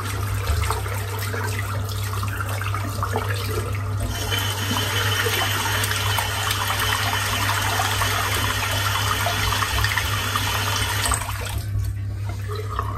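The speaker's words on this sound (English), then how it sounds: "Just rinse the brush out." Running water pours steadily from a tap as a boar-bristle shaving brush is rinsed beneath it, a continuous close splashing rush that grows fuller midway and cuts off near the end.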